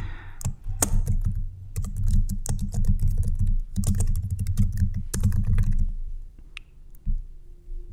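Fingers type a name on a computer keyboard, a close, rapid run of clicking keystrokes in quick bursts with a few short pauses, quiet apart from the keys.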